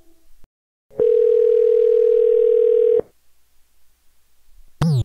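A telephone dial tone sounds steady and loud for about two seconds after a call is hung up, then cuts off, followed by a brief rising beep near the end.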